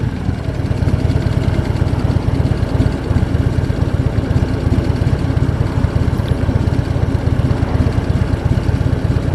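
A 2015 Harley-Davidson Street Glide runs with its exhaust pipes rumbling in a steady, loud, close low throb that holds unchanged throughout, with no talking.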